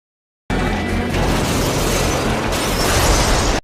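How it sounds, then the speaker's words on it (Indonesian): A truck smashes into a house and explodes: a loud, sustained roar of crashing and blasting, with continuous rumbling debris and fire-like noise filling the whole stretch after a sudden start. "menabrak rumah warga hingga hancur dan meledak seketika"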